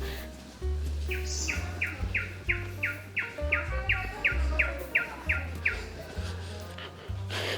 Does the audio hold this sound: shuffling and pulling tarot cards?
no